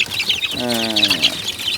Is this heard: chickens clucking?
yes